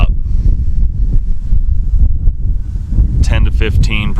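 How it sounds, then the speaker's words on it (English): Gusty wind buffets the microphone outdoors during a November firearm whitetail hunt in Nebraska, a steady low rumble that stays loud throughout, with a voice briefly heard near the end. "there's a wind blowing about"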